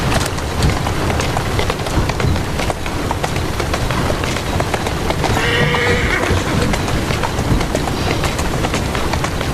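A horse in the Assassin's Creed Syndicate video game clops along steadily with a dense patter of hooves, and a brief neigh rises midway over the continuous trotting.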